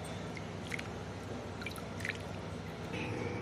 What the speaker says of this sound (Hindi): और अब हम मीठा पानी ले लेते हैं।